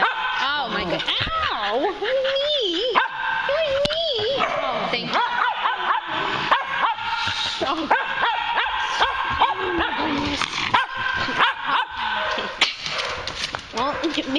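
Dogs at a doggy daycamp bark, yip and whimper in bursts, close and loud, mixed with a person talking to them throughout.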